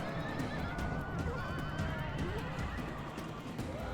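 Horses neigh and whinny amid the steady din of a Total War: Rome Remastered battle, with repeated high whinnies layered over constant rumbling clatter and hoofbeats.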